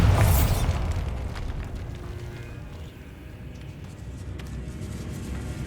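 A Bombarda blasting spell goes off in Hogwarts Legacy, a loud booming explosion at the start that decays into a long rumbling, crackling tail of falling debris inside a decayed catacomb.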